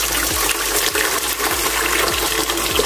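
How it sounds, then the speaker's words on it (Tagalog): Water pours steadily into a cooking pot for lentil soup, a loud continuous splashing gush close by. "Ilalagay lang natin yung tubig sa kaldero."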